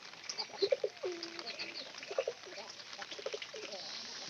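Racing pigeons coo in short soft bursts at close range, a few grouped calls spread across the moment with faint chirps, over low room noise and indistinct background voices.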